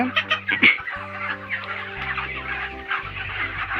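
Broiler chickens in a poultry farm shed cluck and chatter steadily throughout, several birds calling close by with overlapping bursts over a low droning hum.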